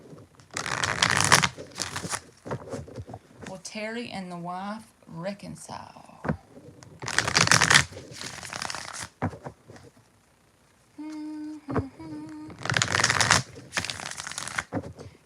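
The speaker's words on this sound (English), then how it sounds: "Let's swap decks, 4 shuffles" Three separate bursts of close, papery tarot-deck shuffling, each a second or two of dense riffling, alternating with someone speaking between them.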